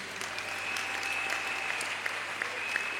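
Steady applause from an audience at a religious gathering, sustained and fairly even across the whole stretch with a faint tone running underneath.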